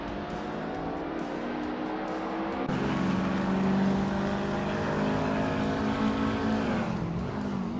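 A 2015 Mazda MX-5 race car launches off the starting line, engine note climbing steadily as it accelerates hard, loud and close, with other cars roaring around it and a brief shift before it pulls away.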